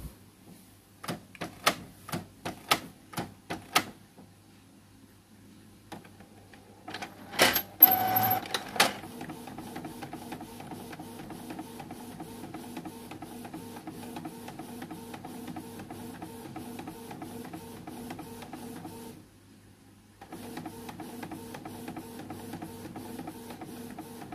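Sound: Canon MG2570S printer printing a photo

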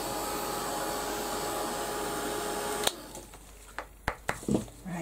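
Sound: heat gun drying mixed media work

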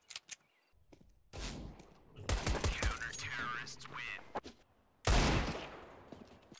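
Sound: FAMAS rifle spray firing in CS:GO video game

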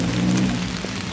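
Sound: rain falling

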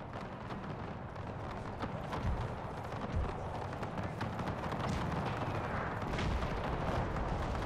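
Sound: artillery fire from the video game Napoleon Total War

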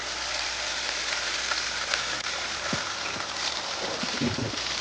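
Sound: fish frying in oil

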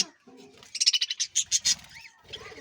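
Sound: budgerigar and java sparrow birds chirping in colony

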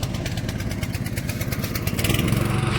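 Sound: farm machine engine running in a field

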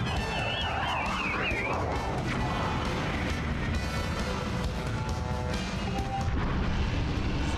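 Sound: cannon firing in the video game Zelda Skyward Sword HD

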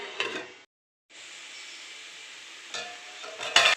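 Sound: cabbage frying in oil

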